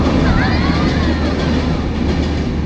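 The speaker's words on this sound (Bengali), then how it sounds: "কথার ফাঁকে ট্রেন আসছে" A passing train with eleven carriages and a single engine rumbles steadily and loudly for the whole stretch, a constant broad roar with faint rail clatter and no pauses.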